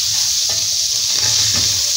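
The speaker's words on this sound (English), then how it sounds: "Give it a proper stir" Onions fried in a little oil in a pan are stirred, giving a steady loud sizzle and hiss with a few soft scraping strokes of the spoon on top, close by, with no talking.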